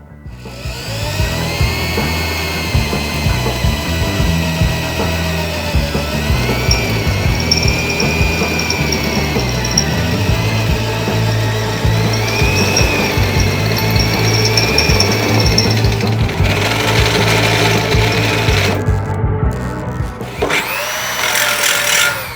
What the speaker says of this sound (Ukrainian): Взяли сверло десятку, квадрат з товщиною стінки 2 мм та давайте просверлимо його.